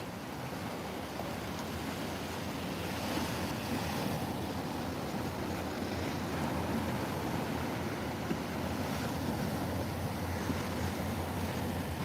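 Ocean surf at Fort Lauderdale Beach, a steady, soft wash of waves with wind across the microphone, continuous and fairly faint with no voices.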